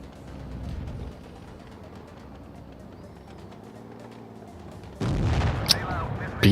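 Tank cannons fire in an online tank battle game, heavy booms rumbling under steady game noise before a louder, harsher burst of fire near the end.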